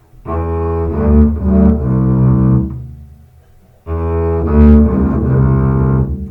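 A low, resonant bass guitar line, played without the tie, plays two phrases of sustained notes with a pause between them, loud and close, with no talking.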